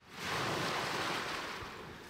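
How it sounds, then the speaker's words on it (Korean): Ocean waves wash steadily onto the shore, a broad continuous roar of surf with wind, rising quickly then holding near and loud without any voices. "시원한 파도 소리와 함께 아름다운 경관을 보니"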